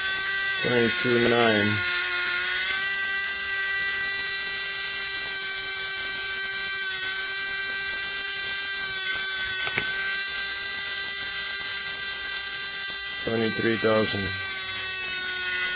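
A self-accelerating electric motor with trouble in one of its coils runs with a steady, high-pitched whine, while a person talks over it in short bursts at the start and near the end.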